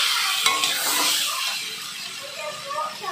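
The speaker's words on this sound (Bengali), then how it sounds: "ডালটাও ভালো করে নেড়ে নিচ্ছি" Red lentils (masoor dal) being stirred in a pot with potato, papaya and carrot, giving a soft continuous scraping and gentle sizzle with faint clinks of the utensil, with no talk over it.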